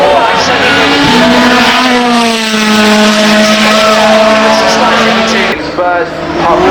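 A Porsche GT2 RS race car roars past at the Goodwood Festival of Speed, a loud engine note rising and holding through the gears before fading, with a commentator talking over it.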